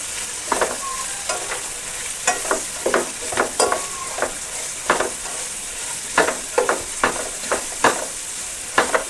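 Vegetable fried rice with cabbage being stirred in a frying pan: steady sizzling frying hiss with repeated sharp scraping strokes of the spatula, irregular and close, with no talking.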